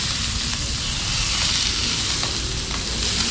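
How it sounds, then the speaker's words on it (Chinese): Pickled mustard greens stir-fry in a hot wok with oil, giving a steady, close, loud sizzle and hiss that runs unbroken with no talking. "OK， 炒均匀的。"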